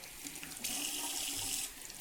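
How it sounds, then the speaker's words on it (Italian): Hot water running from a sink tap in a bathroom during a shave, a steady hiss of flowing water that swells louder midway, close and alone without talk. "Acqua calda."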